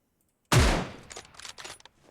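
Gunfire in PUBG Mobile on the Livik map in Atlantis mode: one loud close burst of shots followed by a rapid rattle of several quieter shots trailing off, with no voices.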